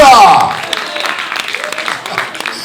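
Live audience applause for a woman from Torre del Greco at a comedy stage show, a steady close crowd clapping that fades slightly, with a voice talking over the start.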